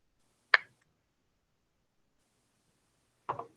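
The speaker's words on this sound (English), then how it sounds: "I popped my knuckle. Oh. Yeah, or cracked it." Two sharp, isolated knuckle cracks about three seconds apart in a quiet room, each a brief dry pop with nothing else audible between them.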